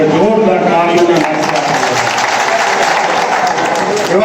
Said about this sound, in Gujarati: એમને એકવાર જોરદાર તાળીઓથી વધાવવામાં આવે